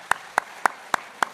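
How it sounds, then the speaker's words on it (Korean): Five evenly spaced sharp hand claps from a church gathering, crisp and close, with a quiet room behind them and no voices. "박수 좀 치세요"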